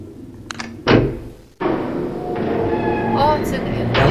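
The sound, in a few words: gate closing in Myst video game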